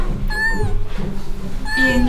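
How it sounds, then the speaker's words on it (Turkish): A cat meows twice, loud and close, each call a drawn-out rising-and-falling cry separated by a pause of about a second, with faint background noise between. "Bir miyavlama sesi duydun mu?"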